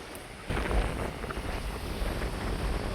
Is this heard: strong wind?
yes